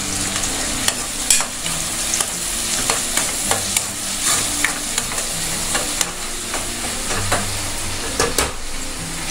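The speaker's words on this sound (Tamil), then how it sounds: "சின்ன வெங்காயம் வந்து நல்லா வதங்கி வரணும்." Shallots sautéing in a pan with salt, stirred continuously; loud, close sizzling with frequent sharp scrapes and taps of the spoon against the pan, no voices.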